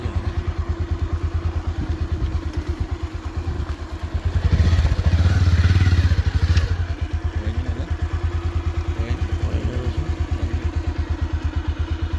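Motorcycle engines rumble steadily with a pulsing low throb, swelling louder for a couple of seconds midway as a bike passes close, then settling back.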